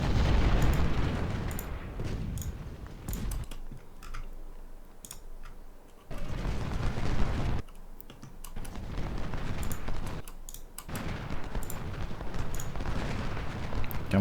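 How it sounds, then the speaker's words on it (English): Artillery shells firing and exploding in the Civil War strategy game Ultimate General Civil War, repeated heavy booms and rumbling blasts with crackling bursts over a continuous battle din. "at the moment we're being hit by shell from Howard's battery"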